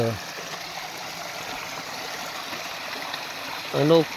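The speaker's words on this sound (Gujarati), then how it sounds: "ઝરણાનો નજારો છે ધોધ સ્વરૂપે પાણી વહી રહ્યું છે" A hill stream in the Ratanmahal forest spills as a small waterfall, a steady close rush of flowing water, with someone speaking briefly at the start and end.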